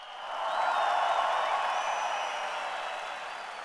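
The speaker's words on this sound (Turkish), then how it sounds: "helikoptere bir alkış yapalım" A large outdoor political rally crowd in İzmir breaks into broad, sustained applause and cheering, a dense distant wash that swells and then slowly fades.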